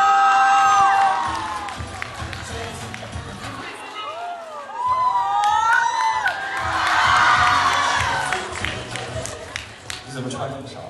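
A live audience cheers, whoops and applauds to welcome a guest on stage at a concert press event. The crowd noise is loud and sustained, rising in waves, with an amplified voice speaking over it.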